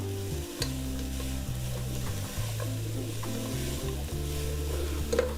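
Beans and carrots softening in a pan for chicken vegetable soup, a soft steady sizzle with light stirring, under a low, rhythmic humming drone, no speech.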